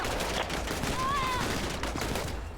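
Dense, continuous gunfire rattles through a police shootout in the GTA V video game with the LSPDFR mod, a loud unbroken barrage of rapid shots with a brief whistling tone in the middle.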